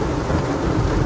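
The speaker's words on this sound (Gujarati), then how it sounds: "જો બહાર કેવો વરસાદ છે હો ખાલી." Heavy rain pours down with rolling thunder at Bortalav lake, a dense, loud, continuous roar filling the whole moment with no voices.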